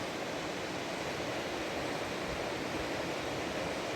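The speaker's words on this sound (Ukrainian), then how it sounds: "Внизу видно ще один каскад водоспаду Кам'янка," Kamianka waterfall cascading through a gorge lined with spruce, a mountain river over boulders and rapids below; a steady, dense broadband rush of falling water, constant and close, with no voices.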